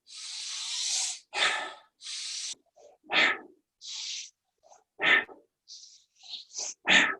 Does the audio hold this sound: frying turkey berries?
no